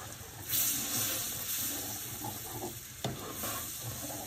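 Milk streams into semolina frying in a pan for halwa, setting off a loud, close hiss and sizzle that continues with stirring scrapes, flaring briefly near the start and again around three seconds in.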